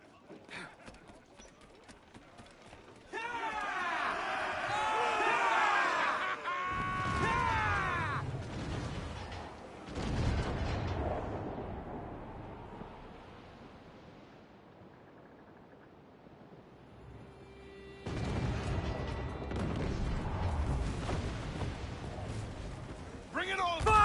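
Pirate ship cannons fire in a naval battle in Assassin's Creed Black Flag. Booming volleys and crashing impacts mix with shouted crew voices, a game soundtrack and sea sounds, and the loud bursts come in waves.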